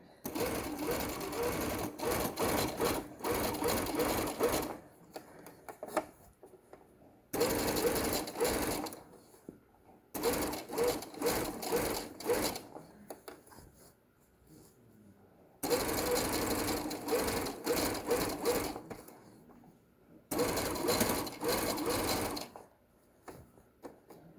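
A sewing machine stitches a fabric tote bag seam in several long, loud bursts of rapid mechanical whirring, separated by short pauses of near silence.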